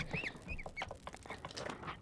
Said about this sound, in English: I'm gonna get those chickens.